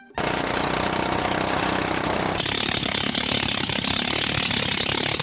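A homemade African airplane engine, pieced together from scrap, fires and runs with a loud, harsh, rattling roar that starts abruptly and holds steady, close and dominant.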